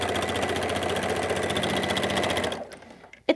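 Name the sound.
sewing machine running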